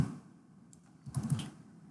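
Short bursts of keystrokes on a computer keyboard as a name is typed, quiet and close, with a pause between two clusters of taps.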